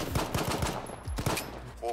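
Gunfire in a shooting video game comes as a rapid run of sharp, close shots, then a couple of louder cracks, with game sounds layered over them.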